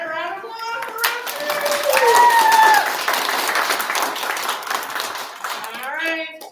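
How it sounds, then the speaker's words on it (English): A school spelling bee audience gives a round of applause for young contestants, steady clapping from a crowd of children and adults, with voices and children calling out over it. "round of applause for"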